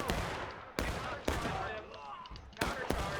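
Pistol and musket gunfire in the Civil War video game War of Rights sounds as four or five loud, sharp cracks at irregular intervals, each followed by a brief echoing tail, with no talk.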